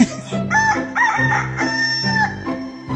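A rooster crows loudly and close, its drawn-out call repeating over a few seconds with clucking fowl around.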